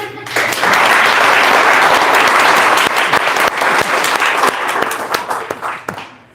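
An audience at a beekeeping club meeting applauds to vote in a contest, loud sustained clapping that swells quickly, holds, then thins into scattered claps and fades.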